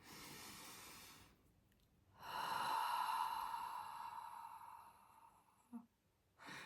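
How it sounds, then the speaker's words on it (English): A breathy inhale, then a long, slow, drawn-out exhale close to the mic, ending with a short soft sniff and another breath. "let my breath out, but I let it out more slowly and for longer than I'm breathing in"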